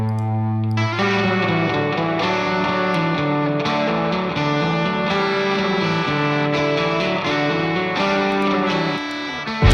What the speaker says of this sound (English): spring reverb here is pretty cranked. Giving it a bit of vibe.